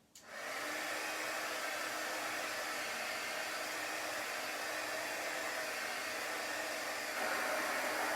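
A hair dryer runs steadily to dry chalk paste on a chalk craft project, switching on at the start and then blowing as a loud, constant whoosh up close with no voices.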